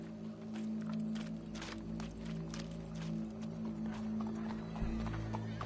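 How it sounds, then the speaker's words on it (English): In a Red Dead western video game, a horse's hooves clip-clop steadily at close range while it neighs, set over a low continuous hum and background noise. "Go brush that horse, officer."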